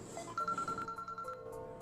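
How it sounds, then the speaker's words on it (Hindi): Several telephones ring repeatedly inside a room, a steady electronic ringtone warbling for about a second over a low background murmur, fairly faint and not close to the listener. "कुछ ही देर में बार बार कई फोन बजने लगे।"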